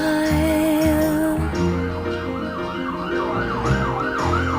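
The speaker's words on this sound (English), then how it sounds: "Those sirens are not in the original recording." Wailing emergency sirens rise and fall continuously, loud and close, layered over a steady background of music.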